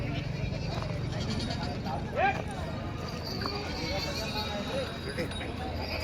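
Goats bleat at a village goat market in Hingoli district, with one clear, wavering bleat standing out midway over a continuous murmur of crowd chatter and people talking nearby.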